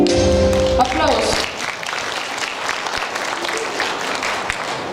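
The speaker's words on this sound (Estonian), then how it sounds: "Aplaus!" An audience at a school playback show bursts into steady applause, many hands clapping densely for several seconds, loud and filling the room, briefly over the tail of music at the start.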